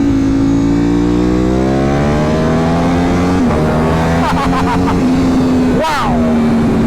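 A 2025 Ducati Panigale V4 S fitted with an Akrapovic exhaust accelerates hard. A loud, rising engine note climbs through the gears, with a brief shift break partway through. A voice is heard near the end.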